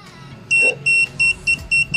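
A multitester used for cellphone repair beeps during a continuity test: five short, sharp, evenly spaced electronic beeps, close and clear over faint background noise.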